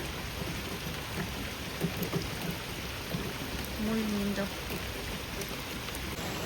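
Steady rain falls outdoors as a continuous broadband hiss, with a brief low tonal sound partway through and a few words spoken quietly over it.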